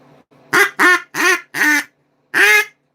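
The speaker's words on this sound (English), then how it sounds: "Sounds like an old duck." An old Olds duck call from Pekin, Illinois, blown in a rapid series of four loud, raspy quacks, a short pause, then one final quack, all close and clear without talk.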